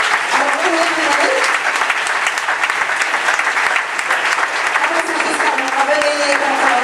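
A crowd claps loudly and continuously for a performing troupe after an evening show, the dense applause running throughout with voices speaking over it.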